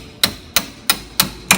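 Five light, evenly spaced taps from a small hammer strike a part to loosen it around a bottom screw, each crisp and close with a quick decay, alone with no talk.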